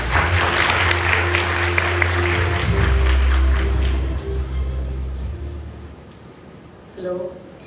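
An audience in a lecture hall gives a round of applause that is steady at first and fades out after about four seconds, over a low hum of amplification, then a short bit of quiet.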